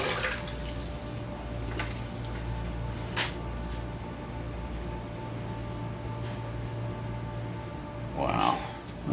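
Water running over a knife blade being rinsed, a steady close trickle and splash under faint room noise, with a brief louder splash near the end.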